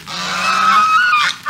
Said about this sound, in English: And these are big geese over here.